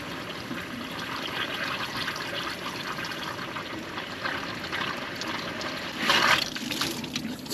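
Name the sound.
water leaking from a Toyota 22R pickup radiator hose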